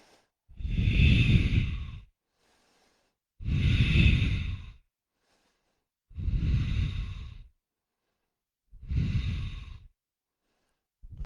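Slow, deep breaths during a yoga exercise, four long airy inhales and exhales about two seconds each separated by short silences, close and clear with no talking.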